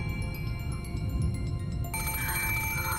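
A telephone rings in the video game Umineko no Naku Koro ni with repeated electronic bell-like trills at a steady pace over a low background music bed, and a brighter tone joins partway through.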